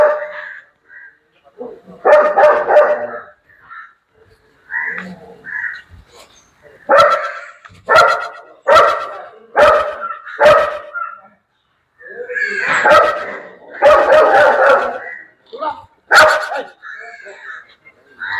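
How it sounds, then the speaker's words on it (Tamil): Two police sniffer dogs bark loudly and close in repeated sharp bursts, with yips and whimpers between them and occasional talk mixed in. "அதாவது இரண்டு மோப்ப நாய்கள் இங்கே காணப்படுகின்றன"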